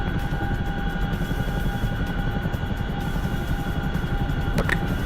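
A Chinook helicopter in a video game drones steadily, a continuous loud rotor rumble with a dense low wash and no pauses.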